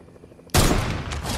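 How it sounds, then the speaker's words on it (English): Gunfire erupts in a video game shootout, a sudden loud burst of rapid overlapping shots that starts abruptly after a quiet moment and keeps crackling close by, with no talk over it. "they're shooting my way"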